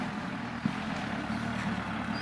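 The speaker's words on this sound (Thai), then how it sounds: "เอาอ้อยขึ้นรถบรรทุก รถหัวลาก เป็นกระใส่ อันรถไถหน้านี่ล่ะ" A front-loader tractor loads sugarcane onto a tractor-trailer truck in a cane field, its diesel engine droning steadily nearby with a faint knock partway through.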